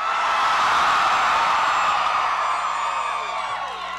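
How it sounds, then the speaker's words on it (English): A big crowd at a Bernie Sanders rally in Salt Lake City, Utah, roars with sustained cheering and whooping. The roar stays loud and dense throughout, then eases slightly toward the end. "What a fantastic crowd."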